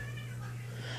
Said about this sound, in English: it sounds like cats are, like, killing each other out there